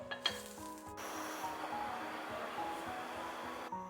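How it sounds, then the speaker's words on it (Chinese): Fried bean curd braising in broth with a chili pepper in a covered pan over low heat, giving a steady, close sizzle and bubbling with a few clinks of a lid or pot at the start. "然后扣上盖子，给它转小火炖煮6分钟"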